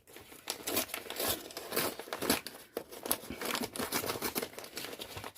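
A parcel collected from a relay point being opened by hand, packaging crinkling, crumpling and tearing in close, irregular bursts that continue throughout, with no talk.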